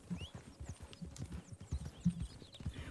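Horse hooves clip-clopping in Red Dead Redemption 2, a steady rhythm of low thuds with a brief whinny-like sound, fairly near and moderately loud, with faint game ambience behind.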